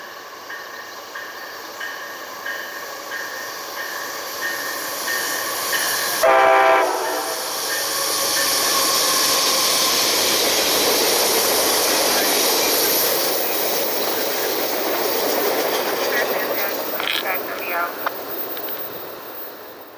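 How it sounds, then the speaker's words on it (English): An Amtrak Capital Limited passenger train passes at track speed on CSX's Sand Patch Grade beside maintenance-of-way equipment in a siding, with a short horn blast followed by a loud, sustained roar of the passing cars. "the eastbound Capital Limited does all of track speed as it passes MOW equipment in the siding"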